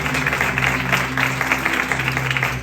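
A church congregation applauds together for a steady couple of seconds, dense clapping with a sustained organ or keyboard chord underneath.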